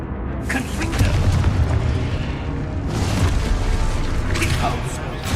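A Confringo fire spell erupts in Hogwarts Legacy: heavy, booming blasts with rumbling low end, one around the first second and another near the third, over continuous game noise while a voice speaks.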